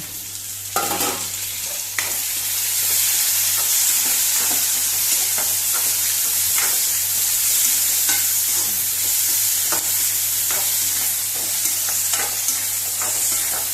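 Tomatoes dropped into a hot pan for a Goan-style chicken curry, sizzling loudly and steadily while a spoon stirs and scrapes against the pan in repeated strokes, with a faint low hum underneath.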